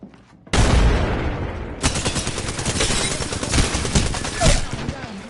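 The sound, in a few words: gunfire from enemies in video game Apex Legends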